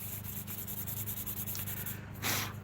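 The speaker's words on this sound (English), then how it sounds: "when you're doing the sanding" Wood sanded by hand produces a steady, rhythmic scratchy rubbing close by, repeating in short strokes, with a brief louder hiss near the end.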